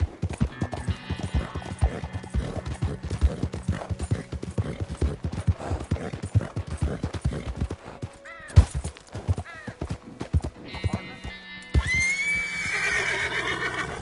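Horse whinnies and clip-clopping hooves from the video game Red Dead Redemption 2, with a steady run of hoofbeats through most of the stretch, a sharp knock partway in and a loud whinny near the end.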